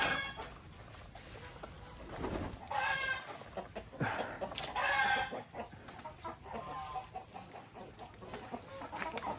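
Chickens cluck in a wet backyard during heavy rain, giving soft intermittent clucks and a few louder calls, fairly faint against a steady patter of rain.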